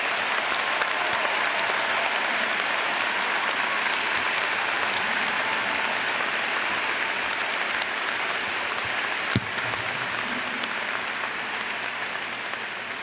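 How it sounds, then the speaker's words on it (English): A large commencement audience applauds new doctoral graduates at a 2015 University of Arkansas ceremony, a dense, steady wash of clapping that holds evenly for about thirteen seconds from a big crowd. "would the audience please join me in applauding our newest EDDs and PhDs"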